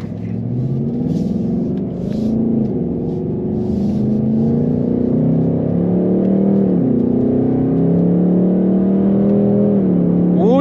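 A 2024 Ford Mustang GT Premium with a 5.0L V8 and 10-speed automatic drones steadily from inside the cabin, its engine note rising and falling through gear changes, loud and continuous.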